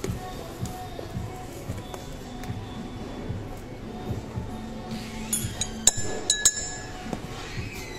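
Sugar and bitters are worked in a cocktail mixing glass for an old-fashioned, with quiet scraping and a cluster of sharp glassy clinks toward the end, close and fairly faint.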